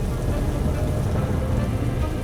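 Heavy rain pours down in a dense, unbroken roar that stays loud and constant, used as a horror-story sound effect. No distinct thunderclap stands out.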